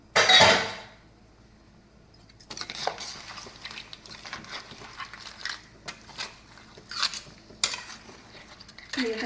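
A spoon stirs crab curry in a pot, making repeated close metallic clinks and scrapes against the pot and shells, irregular and moderately loud after a sharp opening clatter.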